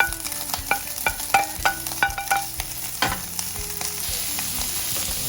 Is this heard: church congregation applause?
no